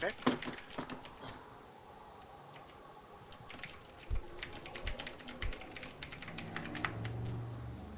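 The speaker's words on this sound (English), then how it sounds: "I think I'll make sure I'm typing his name right" Quiet typing on a computer keyboard, a steady patter of soft key clicks that thickens toward the end, with faint background noise.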